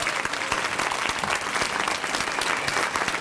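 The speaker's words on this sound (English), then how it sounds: "Everybody give him a round of applause." Steady, dense applause from a luncheon audience fills the room, a continuous round of many hands clapping with no voices standing out.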